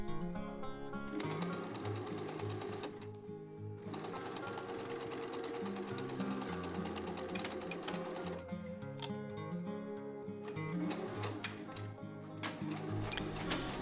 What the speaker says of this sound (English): And so we are sewing the side seams from the sleeve down to the waist.